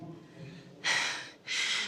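Heavy breathing after climbing a tall tower at Berlin Cathedral: two loud, breathy gasps close to the microphone, the second following a short pause, over a faint background murmur.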